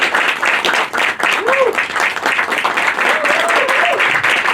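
At a film trailer launch, the audience applauds to welcome director Surya Vasistta: loud, continuous clapping fills the hall, with crowd noise and a couple of sliding whistle-like tones rising over it.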